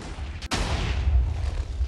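A Minecraft TNT cannon, a 255-block water-bucket design, fires one sharp blast near the middle, followed by a rumbling explosive wash that decays slowly over low ambient noise.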